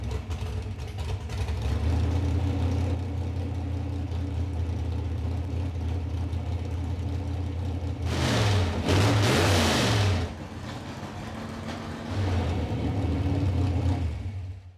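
A 1956 Chevy engine, freshly fitted with hastily wired MSD ignition and running without timing advance, turns over and settles into a loud, steady idling rumble, then revs hard for a couple of seconds before dropping back and swelling again.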